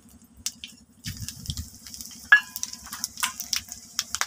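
Whole spices, bay leaf, cardamom, cloves and cinnamon, hit hot frying oil in a Bengali chicken dish, giving a soft crackling sizzle with clinks and stirring clatter, close and unaccompanied by talk.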